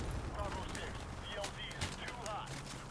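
Gunfire in Call of Duty Modern Warfare Remastered, rapid faint bursts and cracks layered over a busy battle din, with a voice speaking over it.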